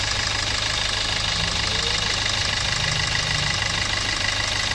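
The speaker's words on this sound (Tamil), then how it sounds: "இப்போ பார்த்தீங்கன்னா இன்ஜின் நாய்ஸே கம்மியாக இருக்குது" Toyota Etios engine idling after a water pump replacement, a steady, even mechanical hum with a light whirr, close and unchanging throughout.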